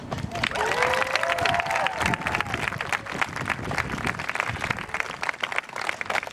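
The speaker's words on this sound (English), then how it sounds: "we should give a big round of applause for all of the organizers of this event" A crowd at an outdoor climate strike rally claps and cheers for the event organizers, a lively burst of applause with a few shouts and whistles that holds for several seconds.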